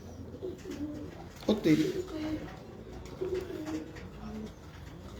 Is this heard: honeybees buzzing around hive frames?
no